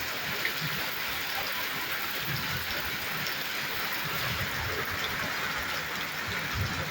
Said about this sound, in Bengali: হ্যাঁ, সুন্দর এই বৃষ্টি ভিজা বিকেল।